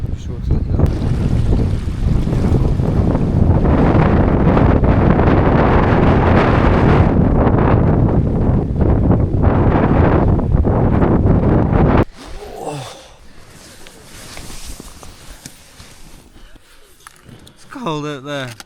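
Strong gusty wind of around 60 mph roars and buffets the microphone outdoors for about twelve seconds, very loud and rough, then abruptly falls to a quieter indoor space with faint rustles and a short voice near the end.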